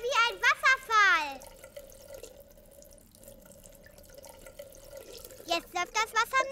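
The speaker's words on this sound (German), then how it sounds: "Und jetzt machst du sie nass, ja? Jetzt läuft das Wasser. Das ist ja wie ein Wasserfall." Water runs steadily from a tap under bursts of lively chatter, the stream continuing alone in the quiet middle stretch.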